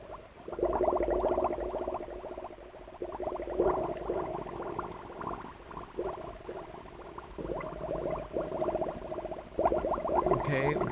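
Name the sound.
flowing water ambience in Myst video game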